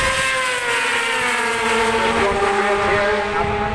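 Racing motorcycles at Bishopscourt circuit, including a Yamaha, screaming past at high revs in a loud, sustained engine roar with pitch sweeping as they pass close by.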